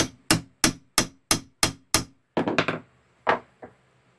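Hammer tapping a PTO shaft yoke into place on a bent shaft repair, seven sharp evenly spaced metallic blows followed by a quicker cluster of taps and two last hits, close and loud.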